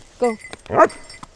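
Search and rescue dog in a forest on a training mission, giving two or three short close barks and yips, with people talking around it.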